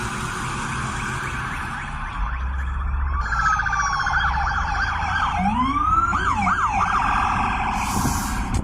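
A police car siren wails and whoops nearby, rising and falling in pitch over a steady background rumble, lasting several seconds without talk.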